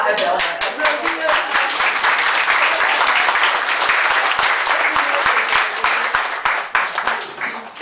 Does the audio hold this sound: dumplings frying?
no